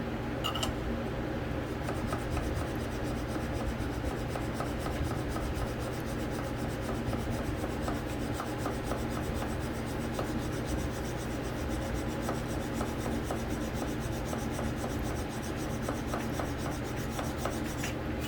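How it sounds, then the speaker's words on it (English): Steel file rasping along the bevel of a steel Bowie knife in a workshop, continuous rhythmic scraping strokes, close and steady throughout with no talk. "keep your file flat on your bevel"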